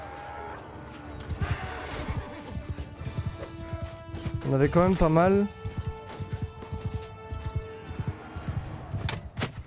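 Horses gallop with rapid clip-clop hoofbeats and one whinnies loudly midway in the video game Mount & Blade 2 during a siege battle, while someone talks over the action.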